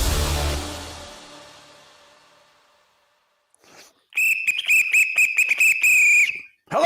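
A fading crash-like tail gives way to silence, then a loud, shrill whistle sound effect enters, sounding in several quick repeated bursts before holding a steady tone that cuts off abruptly.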